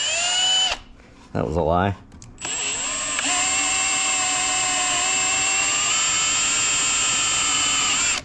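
Electric drill boring a hole through metal on a Ford Courier U-Haul mini-mover, a steady high whine lasting several seconds after a short burst and brief speech.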